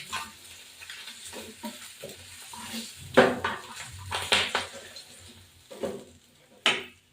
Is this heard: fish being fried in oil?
yes